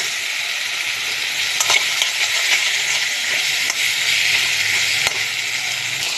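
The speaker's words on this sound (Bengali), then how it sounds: "এবার আমি সিদ্ধ করে নিয়ে আলুগুলো দিয়ে দিচ্ছি।" Boiled potatoes dropped into a thin local fish curry frying in oil, giving a steady close sizzle and crackle with a few brief stirring clatters, no talking.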